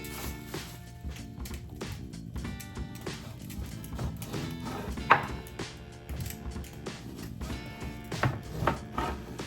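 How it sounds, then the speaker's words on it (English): A knife cutting a tough lemon into half-inch slices in a home kitchen, soft repeated chops and knocks on a board, fairly quiet with faint background hum. "So you just want to cut that into some slices."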